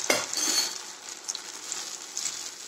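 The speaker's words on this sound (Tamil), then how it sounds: "கலக்கி விடுங்க." Guava leaf halwa mixture is stirred in a pan, with a soft steady scraping and faint sizzle, a sharper clink at the start, then quieter strokes continuing close by.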